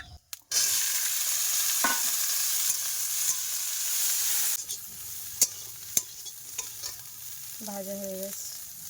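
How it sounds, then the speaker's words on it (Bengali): Soybeans fry in a pan over a gas flame, a loud continuous sizzle that drops off about halfway, followed by sparse clinks and scrapes and a faint tonal sound near the end. "এখন সয়াবিন ভাজবো, এই গ্যাসটা জ্বালিয়ে দিয়েছি।"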